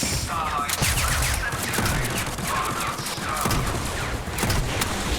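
Continuous weapon fire in the video game TimeSplitters Rewind, a dense stream of rapid crackling shots and sharp impacts layered over one another, loud and steady throughout.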